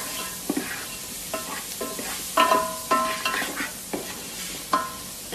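Meat frying with onion, peppers and crushed meat spices in a pot for mandi, a steady sizzle broken by repeated scraping stirs and clinks of a spoon, close and fairly loud, with no talking.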